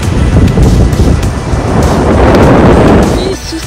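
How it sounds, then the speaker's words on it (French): Strong wind on a beach at La Rochelle buffets the microphone in heavy, continuous gusts, with a roaring rumble and a faint surf-like wash underneath. "il y a énormément de vent à la plage là"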